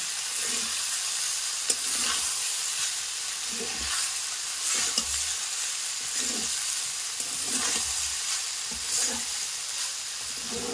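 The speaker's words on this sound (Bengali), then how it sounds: "দিয়ে এটাকে ভালো মতো আমি মিশিয়ে নেব।" Vermicelli and vegetables fry in a pan with a constant bright sizzle while a utensil stirs and scrapes in regular strokes, close up, with no talking.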